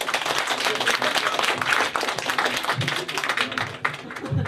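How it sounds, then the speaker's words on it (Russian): Audience applause at a rock festival, dense steady clapping from a nearby crowd, with a few voices talking over it. "Аплодисменты."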